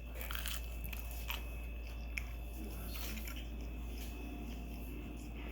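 Someone eating a grilled cheese sandwich: soft, close crunches and mouthy chewing noises at a quiet, even level over a steady low hum, with no talk.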